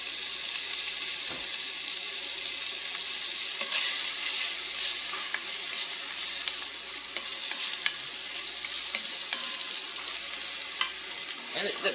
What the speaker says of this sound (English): Cook up some delicious bacon.